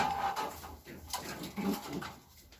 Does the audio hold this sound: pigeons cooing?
yes